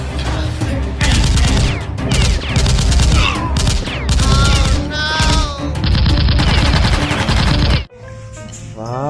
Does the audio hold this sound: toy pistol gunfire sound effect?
yes